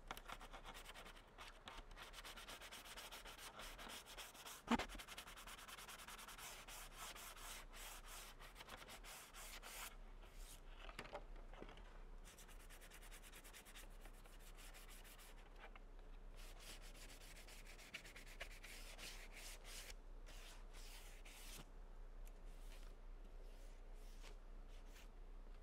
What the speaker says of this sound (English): So we're going to sand those sides.